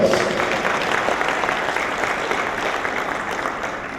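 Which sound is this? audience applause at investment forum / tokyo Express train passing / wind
audience applause at investment forum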